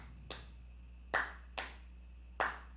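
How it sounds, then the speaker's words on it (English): Four sharp hand claps set out a slow, uneven rhythm in a quiet room, each one crisp and close with a short ring after it, no voices. "I'm going to clap a rhythm"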